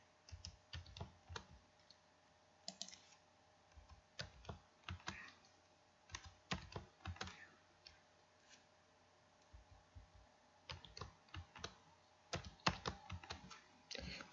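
Computer keyboard typing in quick irregular bursts of close, crisp key clicks with short pauses between, while text box contents are deleted and retyped in a word processor.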